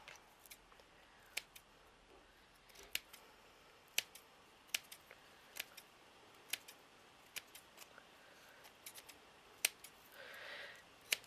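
Scissors snip repeatedly through craft material while a miniature hat and fan are made, giving sharp, dry clicks at an irregular pace over about eleven seconds against a quiet background.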